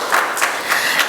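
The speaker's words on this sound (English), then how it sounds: "if we can give another round of applause for all 3 law enforcement agencies" An audience at an evening general monthly meeting claps for three law enforcement agencies, a short burst of dense applause from a moderately sized crowd.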